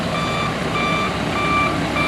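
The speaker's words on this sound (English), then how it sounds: "what you're hearing is a cement mixer" Reversing beeps from a cement mixer truck on a closed street where new curbs are being poured, steady repeated tones over continuous engine rumble and outdoor noise.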